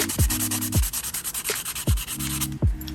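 Rhythmic scratchy rubbing of sandpaper on plastic kit edges, repeated back-and-forth strokes close up, with no voices.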